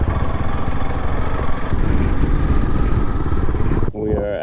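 A motorcycle engine runs steadily under load while riding in second gear, a loud, continuous throaty drone with wind rush that cuts off abruptly near the end.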